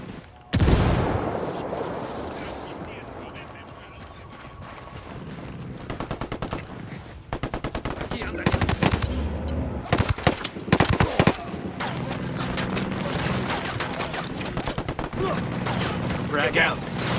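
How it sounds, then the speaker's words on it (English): Gunfire between rebels and cartel fighters in the video game Ghost Recon Wildlands: a sharp opening blast followed by repeated bursts of automatic fire and single shots, loud and close, with some distant popping between. "Got some rebels trading shots with the cartel."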